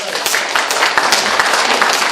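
A short burst of close, dense clapping from a seated audience before a lecture at a senior cultural center, steady and fairly loud throughout.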